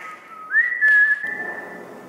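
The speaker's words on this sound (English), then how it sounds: "I'm gonna whistle and you whistle back at me." A single person whistles a clear, sustained tone that rises and holds, close by in an otherwise quiet setting.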